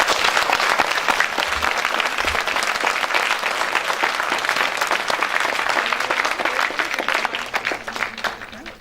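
An audience at a Chandigarh memorial event claps loudly and continuously, a thick wash of hand claps that holds steady before thinning at the close, with no one speaking over it.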